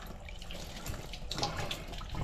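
A tap runs with a steady close stream of water, broken by a few sharper splashes and drips partway through, without any talking.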